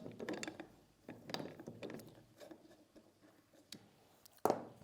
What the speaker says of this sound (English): Next, we can take off the handguard, which is very easily done by loosening these two screws.